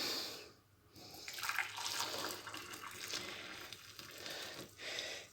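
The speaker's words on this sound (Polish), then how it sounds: "mam tu szklankę, odleję sobie wody" Water is poured from a glass into a herbal tea infuser, giving a soft, close trickle and splash that pauses briefly and then resumes.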